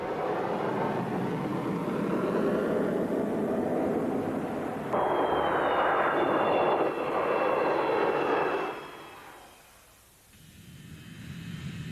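An F-111 jet flies low, following the terrain, with a loud sustained engine roar that swells and shifts pitch midway before fading quickly as the aircraft passes, then a rising rumble returns.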